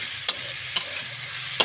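Cumin paste fries in a curry base, making a steady close sizzle with three sharp spatula scrapes against the pan at roughly even intervals.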